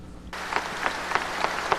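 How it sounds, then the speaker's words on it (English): Mourners in a large crowd gathered after the death of Pope John Paul II break into sustained applause, a dense steady wash of clapping with faint rhythmic pulses. "they clapped"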